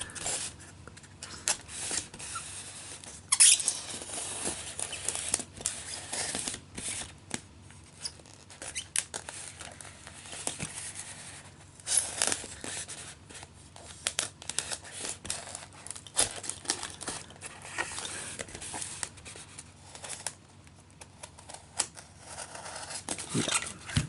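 MINI GT diecast model packaging being cut open: steady snipping and scraping, with plastic crinkling and rustling as it is handled, close and continuous for over twenty seconds with occasional sharper clicks.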